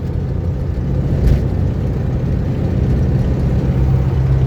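A 1971 VW Beetle 1300 with its air-cooled engine cruising in fourth gear on smooth asphalt gives a loud, steady low drone and whir of engine and road noise, holding an even pitch throughout.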